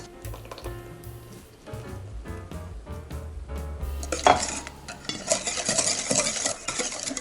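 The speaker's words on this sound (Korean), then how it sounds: "우유를 넣는다, 거품기로 고루 섞는다" Milk being whisked into a mixture in a bowl for a traditional French cookie, a close clattering, scraping stir that becomes a busier, louder swishing in its second half, with no talk.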